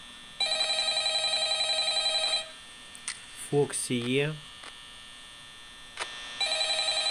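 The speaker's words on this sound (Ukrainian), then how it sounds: "Так, дзвонить телефон." Telephone ringing in the video game Five Nights at Freddy's, a tonal electronic ring in rhythmic pulses that stops, followed by a brief spoken voice and then the ring starting again, over a low mains hum.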